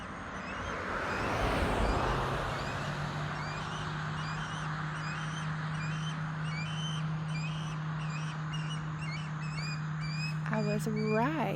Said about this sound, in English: It is a mama osprey. She's fussing about something.